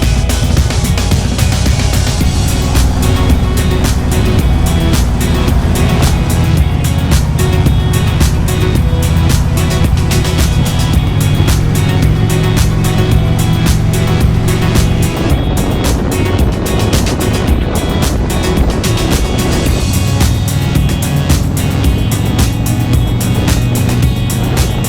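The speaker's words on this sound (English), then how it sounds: "How do you get through this traffic?" Busy Black Friday traffic flows along Robson Street in downtown Vancouver, a loud continuous rumble of passing engines and tyres with shifting tones, no voices.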